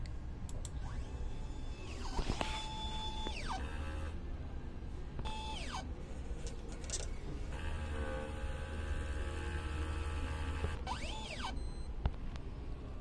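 A printer runs a head cleaning cycle with a continuous mechanical hum, punctuated by repeated rising and falling whirring sweeps of the carriage and pump, plus occasional clicks.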